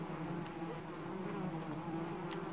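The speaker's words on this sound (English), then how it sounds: "The bees!" A steady, dense drone from a swarm of bees hangs close in an ARK Crystal Isles giant bee hive cave, a low hum running throughout with faint clicks above it.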